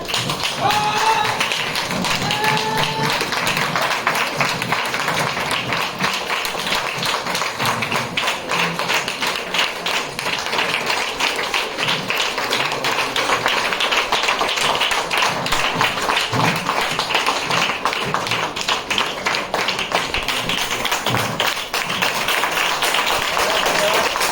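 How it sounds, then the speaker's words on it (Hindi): A seminar audience stands and applauds loudly to welcome a guest. The clapping is dense and sustained for the whole stretch, with occasional voices mixed in. "तो जोरदार तालियों से खड़े होकर स्वागत करेंगे उनका"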